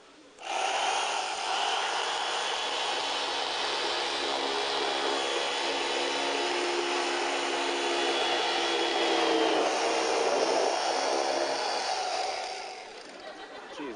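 A real saw rasps through a box in a magic illusion, one long continuous harsh grinding sound that starts abruptly, holds steady for about twelve seconds and then fades.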